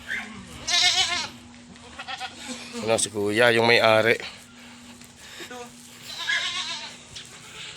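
Several goats bleat loudly nearby in wavering, drawn-out cries, one long call standing out, while people talk in the background.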